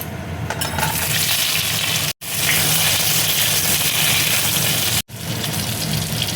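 Pieces of taro frying in mustard oil in a wok, a loud, close, steady hiss and crackle, briefly cut off twice, with no voices.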